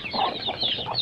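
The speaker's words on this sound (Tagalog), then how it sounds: "Yan o, yung mga manok ng kapatid ko." Several chickens clucking close by on a rural plot in the Philippines, a continuous run of overlapping squawks and chatter with no talking.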